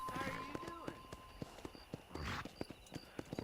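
Hooves of a horse in Red Dead Redemption clop in an uneven, spaced-out rhythm, fairly quiet, with a voice talking over part of it.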